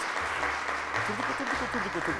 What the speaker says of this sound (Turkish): Kocaman bir alkış alabilir miyiz?